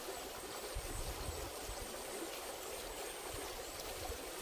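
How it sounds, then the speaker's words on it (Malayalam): A small forest stream flows steadily near a bridge and a large lone tree, giving a constant, fairly faint rushing wash with no voices heard. "ഇവിടെ ഒരു കുഞ്ഞ് അരുവിയൊക്കെ ആയിട്ട് കാട്ടരുവി"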